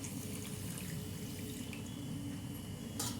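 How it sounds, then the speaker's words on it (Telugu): Water poured from a tap or jug into a heated pan of sugar, a steady close splashing flow running throughout, ending in a brief brighter gush. "వాటర్ వేసుకోవాలి."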